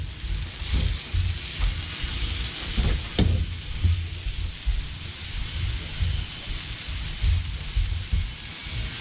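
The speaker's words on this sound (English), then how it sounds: "Mix that up a bit." Paella is stirred in a sizzling pan, giving a steady close hiss of frying with soft scraping and bumping from the mixing, and no talking.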